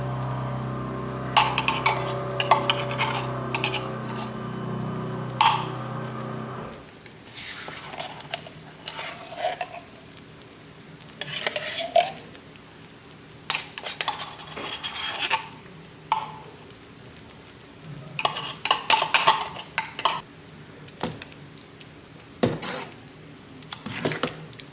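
Metal spoon scraping and clinking against a pot while tomato paste is stirred into thick homemade pasta sauce, a series of irregular close scrapes and knocks with a steady hum underneath in the first seconds.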